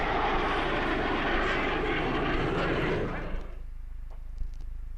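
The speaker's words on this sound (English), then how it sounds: "we had to have a bit of F-16 action from the Solo Turk" Loud jet roar from a Turkish Air Force Solo Türk F-16 fighter display fills the first three seconds, then drops away sharply to a low distant rumble with faint background noise.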